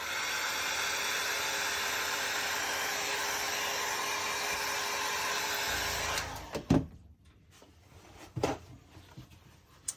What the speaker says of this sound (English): I dry it with the hair dryer